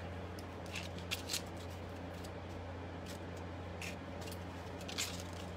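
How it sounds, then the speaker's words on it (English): Repeated crisp snips and crunchy cuts as scissors go through styrofoam, irregular and close, over a constant low electrical hum. "I'm just going to take my scissors and just cut it up."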